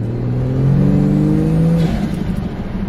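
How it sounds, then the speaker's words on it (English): A turbocharged Ford Falcon engine with a standard blow-off valve revs hard, its rising drone climbing steadily before cutting off, followed by a brief hiss and rumble as it settles, heard close from inside the car without talk. "it still has a standard blow-off valve"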